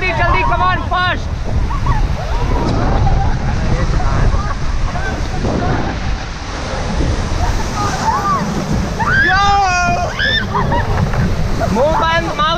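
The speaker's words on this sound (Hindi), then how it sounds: "फास्ट रैपिड आ गया, जल्दी" River rafting through fast rapids, with rushing, splashing water and wind roaring steadily throughout while people shout and talk over it.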